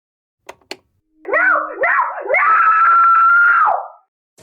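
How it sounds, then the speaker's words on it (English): A recorded woman's scream, played back as an outcry, rises and wavers for a few seconds and then holds loud and sustained, preceded by two brief clicks. "He was replaying it, a recording of some kind, a recreation of her outcry."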